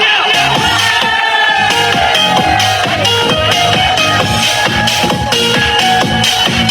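A crowd cheers and shouts for a VIP guest arriving on stage at a Sialkot show, the dense roar running nonstop beside loud, steady rhythmic music.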